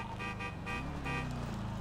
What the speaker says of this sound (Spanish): Me está tocando bocina.